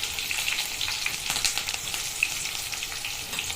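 Curry leaves and peanuts frying in hot oil for a bitter gourd fry give a steady, dense sizzle with fine crackles and pops, close by and uninterrupted.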